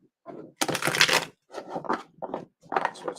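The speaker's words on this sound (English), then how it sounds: "So it's hard to shuffle." A deck of stiff tarot-style cards being shuffled by hand, with several separate bursts of riffling and snapping card noise, close and crisp, with short pauses between them.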